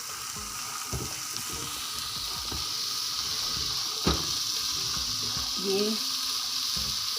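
Black chickpeas sizzle steadily in a hot pan, a broad frying hiss with scattered clinks and stirring knocks, fairly close, with a brief bit of speech.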